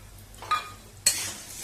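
Black peppercorns hit a little hot oil in a kadai for a dry-roasted masala, giving a short burst of sizzling and stirring scrapes, close and fairly faint.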